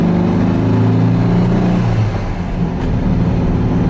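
A 1975 Volkswagen Brasília engine pulls through the gears, a loud, close, steady drone with a brief dip in pitch around a shift before rising again.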